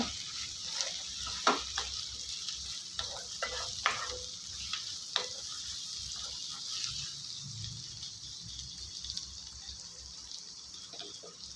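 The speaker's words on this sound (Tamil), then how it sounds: "அதை போட்டுக்கலாம் இது நல்லா சாஃப்டாக ஆகிற வரைக்கும் வதக்கிக்கோங்க" Tomatoes sizzle steadily in a pan while a utensil stirs and scrapes now and then, soft clicks scattered over the frying hiss.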